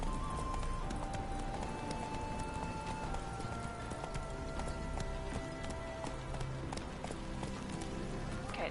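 Roach the horse gallops through the game world of The Witcher 3, steady clip-clop hoofbeats close and continuous, with brief bits of background game tones throughout.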